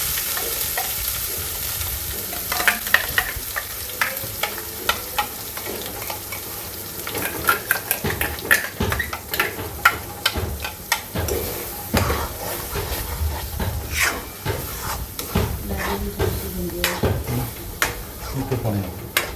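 Chana masala gravy made from a blended paste fries and sizzles in a pan, a spoon scraping and stirring in irregular bursts, with a voice speaking over the cooking now and then.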